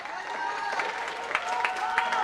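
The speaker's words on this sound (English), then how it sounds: "big round of applause to everybody here." A school holiday reading performance audience applauds, with steady clapping that swells in places while people talk over it.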